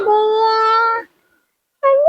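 A cat meows loudly and close by, one long drawn-out call followed after a short pause by the start of a second.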